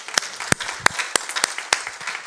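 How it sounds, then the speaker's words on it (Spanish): A church congregation applauds first-time visitors with scattered, uneven clapping and a few sharp, loud claps standing out near the front, fairly sparse and without talk. "pero un aplauso para ellos también"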